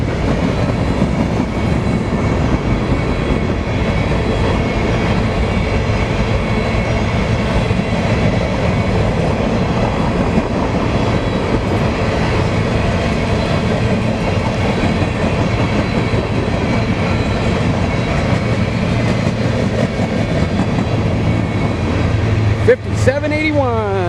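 A BNSF freight train rolls steadily past outdoors in Spokane Valley, Washington, with an ES44AC locomotive at the end, a loud continuous rumble and clatter of wagons lasting throughout, ending in a brief squeal.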